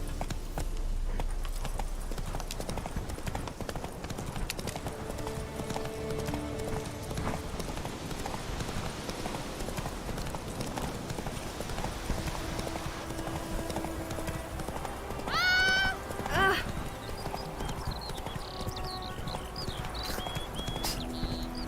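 A horse galloping in The Witcher 3, rhythmic clip-clop hoofbeats running steadily throughout, close and moderately loud, with a brief whinny near the end and no talk.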